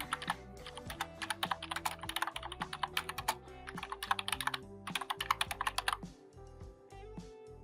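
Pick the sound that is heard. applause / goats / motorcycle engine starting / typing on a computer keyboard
typing on a computer keyboard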